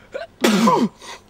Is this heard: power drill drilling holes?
no